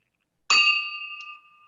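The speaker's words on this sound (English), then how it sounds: "There's our nice Rotary bell" A single bright strike of a Rotary club meeting bell rings out clearly in a quiet room and sustains a pure ringing tone that slowly decays, followed by a faint tap at the end.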